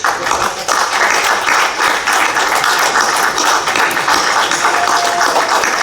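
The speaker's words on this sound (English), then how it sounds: "I would like all of you all to give UV a standing applause." A crowd at a celebrity cricket league press event claps loudly and continuously in a standing ovation, the sustained applause filling the room with no voices on top.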